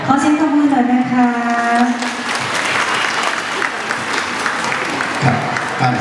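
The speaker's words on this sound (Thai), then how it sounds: "ขอเสียงปรบมือหน่อยนะคะ" Audience applause after a children's dance performance at a kindergarten Mother's Day event, steady dense clapping that fills the hall and continues for several seconds, with a sustained tonal voice or music over the start.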